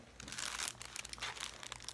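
A plastic bag holding silvered altered cardstock is handled, giving quick irregular bursts of close crinkling and rustling with small pauses between them.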